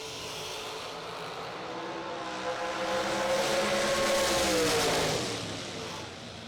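Bracket racing cars at a drag strip, a broad engine roar building toward the middle as a car launches and pulls away, steady and moderately distant, with faint announcer-like voice traces underneath.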